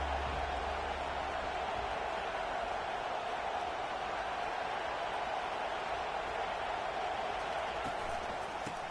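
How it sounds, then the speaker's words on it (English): A large college football stadium crowd roars steadily throughout, a dense, sustained wash of cheering and noise with no breaks. "This crowd bringing the energy and noise early."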